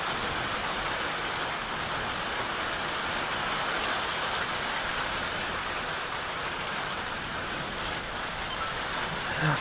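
Heavy rain pouring down in Jammu, a dense, loud, steady hiss of drops beating on surfaces that keeps going without a break and with no voices.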